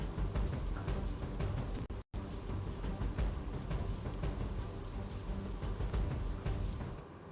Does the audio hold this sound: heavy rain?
yes